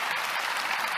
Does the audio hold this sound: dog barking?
no